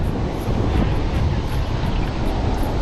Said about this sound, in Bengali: একটু ঢেউয়ের কাছাকাছি গিয়ে একটু ঢেউটা ধরে আসতে পারি কিনা